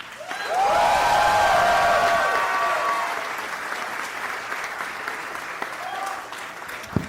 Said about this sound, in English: Please start clapping right now for Ify Nwadiwe.